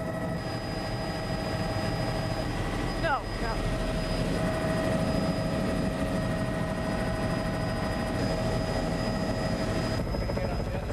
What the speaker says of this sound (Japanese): 我々はティルトン夫人と共にその地下秘密施設の在りかを突き止めるためヘリコプターで出発